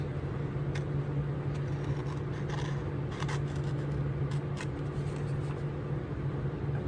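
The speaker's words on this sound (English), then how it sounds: "We'll just cut them all out." Scissors snip repeatedly through fabric, cutting strips in a series of short crisp cuts over a steady low hum, with no one speaking.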